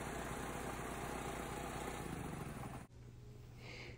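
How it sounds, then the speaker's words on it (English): A gas engine-driven reciprocating air compressor runs with a steady, buzzing drone after a pull start, then cuts off abruptly, leaving a quieter low hum. "set your carburetor choke and engage the pull start feature"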